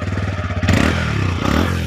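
A TVS Raider 125cc motorcycle with a single exhaust idles nearby in a loud, steady, rapid putter, briefly blipping to a higher rev before settling back to idle.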